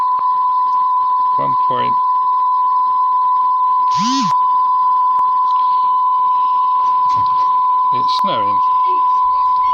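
A steady 1005 Hz test tone plays from a cassette deck under repair, loud and continuous throughout, with someone talking briefly over it.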